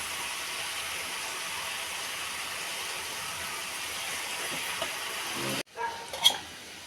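Radish bhaji with grated coconut, turmeric and green chilli fries in a pan, a loud continuous close sizzle that cuts off abruptly near the end, followed by a few faint clinks.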